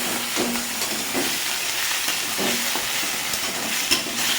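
Washed prawns fry in a hot pan, giving a loud, steady sizzle and hiss with a few stirring scrapes throughout.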